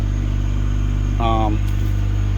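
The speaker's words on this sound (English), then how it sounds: "we're gonna get rid of this obnoxious exhaust" A rusty Honda del Sol with a loud aftermarket exhaust and silencer idles with a deep, steady drone that stays constant throughout, a brief voice-like burst rising over it midway.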